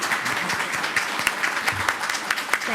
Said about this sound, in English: Let's applaud our junior ROTC.